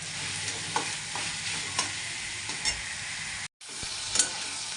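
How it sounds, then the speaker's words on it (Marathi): Red onion frying and being stirred in a pan for egg bhurji, giving a continuous bright sizzle with occasional spatula scrapes and a brief cut near the end; nobody talks. "तर मंडळी लाल असा कांदा मस्त भाजून घ्यायचा आहे आपल्याला"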